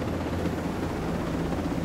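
Helicopter in Ghost Recon Breakpoint flying toward a mountain radio relay station on an island, a steady droning rotor and engine hum that stays loud and unbroken throughout.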